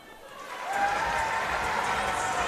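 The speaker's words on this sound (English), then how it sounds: "Crowd pretty stoked that the Vixens can hold that ball" A netball crowd at the 2024 Ballarat Blitz, Melbourne Vixens against Adelaide Thunderbirds, swells into sustained applause and cheering, a broad steady wash of clapping that rises quickly and holds.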